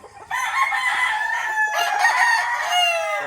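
A rooster crows loudly and close at a gamefowl farm in Maragondon, Cavite, one drawn-out cock-a-doodle-doo with faint background voices.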